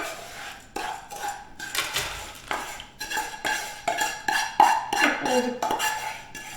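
Metal cake pan and spoon being handled in a kitchen, giving a string of close clinks and scrapes in an uneven rhythm with no talking.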